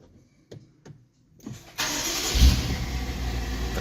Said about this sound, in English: the car started